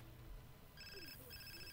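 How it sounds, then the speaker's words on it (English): A phone rings in The Sims 4, two short electronic ring bursts repeating at a soft, even level over faint background sound. "Oh, Toby's phone's ringing?"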